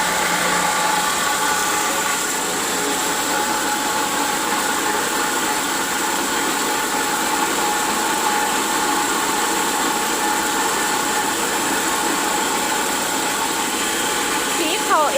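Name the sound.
small family rice milling machine running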